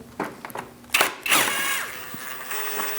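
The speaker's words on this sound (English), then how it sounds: "Now I'm going to remove the middle one with a 10mm socket." A 10mm socket working a bumper bolt loose on a 2000-2006 Mini Cooper, with a few close ratcheting clicks and metallic scrapes, then a short whirring tool burst.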